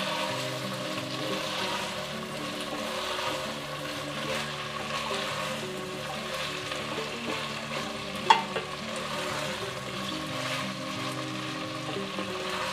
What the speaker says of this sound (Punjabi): ਸਬਜ਼ੀਆਂ ਸਾਡੀਆਂ ਚੰਗੀ ਤਰ੍ਹਾਂ ਫਰਾਈ ਹੋ ਗਈਆਂ ਨੇ